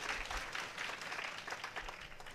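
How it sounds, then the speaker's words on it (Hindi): An audience at a Ram Katha religious discourse applauding in support of Bharat, dense steady clapping from a crowd heard at a moderate distance, continuing throughout without talking. "ये भरत जी के समर्थन की तालियां है"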